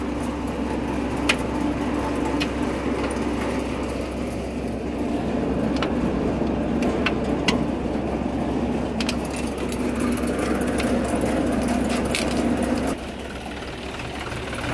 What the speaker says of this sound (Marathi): या अशा प्रकारे चाळणी चालते.